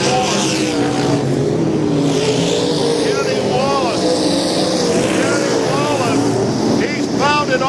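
UMP dirt race cars roaring around the I-55 Raceway oval, loud engines rising and falling as cars pass close by, under continuous excited race commentary.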